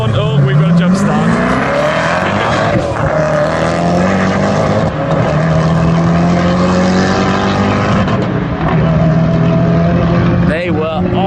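Loud, continuous roar of a Lamborghini Aventador SVJ Roadster drag racing a Mercedes SLS Black Series at a hypercar event, engines climbing through rising revs across the whole stretch, with voices faintly underneath.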